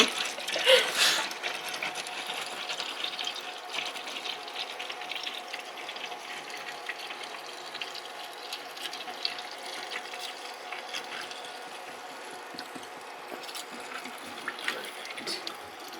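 Engine oil draining from a Kia Forte into a bucket, a steady faint trickling and splashing stream that runs unbroken throughout, slightly louder at the start, no talking.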